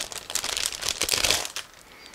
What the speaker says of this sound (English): And now I'm going to open this plastic bag and we will check everything together.